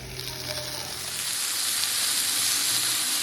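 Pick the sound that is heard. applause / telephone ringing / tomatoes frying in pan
tomatoes frying in pan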